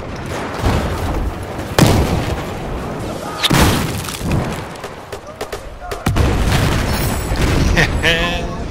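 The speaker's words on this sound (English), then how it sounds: "Throwing grenade!" Grenade explosion in a first-person shooter video game, heavy booms and gunfire crackling through a busy battle soundscape, loud and close, with radio-style voices talking over it.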